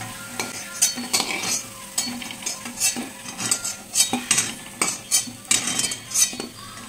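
Jackfruit pieces fry in a pan while a utensil repeatedly scrapes and clinks against the metal, sharp rhythmic stirring strokes over a soft background sizzle, close and fairly loud.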